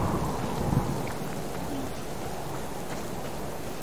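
Steady rain pours in the video game Subsistence, with a low rumble of thunder rolling underneath early on, then a continuous wash of rainfall with no talking.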